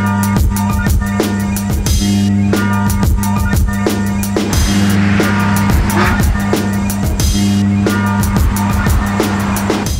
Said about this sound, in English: So now it's time to check out the Mercedes-Benz E63 AMG on track